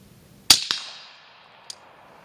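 One sharp, loud shot from a firearm fitted with a green laser and night-vision gear, a quick echo right after and a faint tick about a second later, then quiet.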